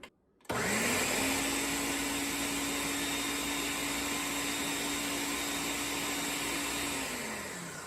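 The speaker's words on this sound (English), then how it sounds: "place the pear tomatoes into the blender" A blender puréeing pear tomatoes starts up abruptly and whirs at a steady, loud pitch for about ten seconds, then begins to wind down near the end.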